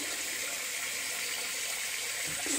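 Cold tap water runs steadily into a sink during a wet shave to rinse off alum, a continuous close hiss of flowing water with no talking.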